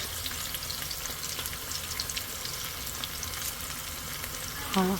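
Tomatoes, green chillies and ginger garlic paste fry in a pan with a steady close sizzle and occasional stirring scrapes, a brief louder clatter near the end.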